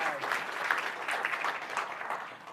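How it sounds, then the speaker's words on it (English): Steady applause from a conference audience at an enterprise architecture talk, dense clapping sustained at an even level throughout without voices over it. "Can you have a round of applause for Paul?"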